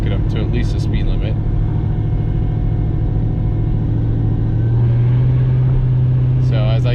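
A Chevrolet Camaro's exhaust rumbles loud and close from inside the car as it accelerates up a hill, the drone rising in pitch toward the end. A voice talks over it.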